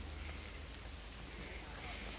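Rain falls steadily on an island path, a soft continuous patter with a low rumble beneath, fairly quiet and even throughout.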